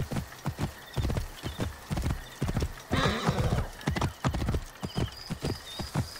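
Rhythmic hoofbeats of a horse clip-clopping in Assassin's Creed Origins, with a loud whinny in the middle and steady clopping continuing after.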